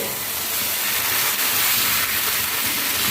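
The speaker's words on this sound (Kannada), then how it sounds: "ಈಗ ದೋಸೆ ತವಾಗೆ ಎಣ್ಣೆ ಹಾಕಿ ಹಚ್ಚಿಟ್ಟಿದ್ದೇನೆ ಈಗ ದೋಸೆ ಹುಯ್ಯಿರಿ" Thin tapioca dosa batter sizzles on an oiled tawa, a dense, loud, continuous hiss that stays even throughout, close up with no voices.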